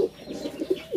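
Soft, throaty pigeon cooing repeats in low burbling phrases, close by, with a faint high whine in the background.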